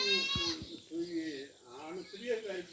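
Goats at a farm in Talagang bleat in a wavering cry near the start, then people talk over fainter bleats from nearby animals.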